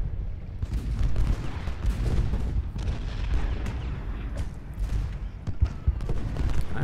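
Musket volleys and artillery fire rattle in Ultimate General Gettysburg, a dense ongoing battle din of popping shots and deep booms at mid distance.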